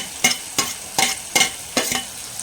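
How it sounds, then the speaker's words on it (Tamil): Homemade paneer stirred into a tomato gravy frying in a pan, with a soft sizzle under regular scraping strokes of a spoon, about three per second, close and with no talk. "இப்போ வந்து பார்த்திங்கன்னா இந்த பன்னீர் வந்து சேர்த்துக்கலாங்க"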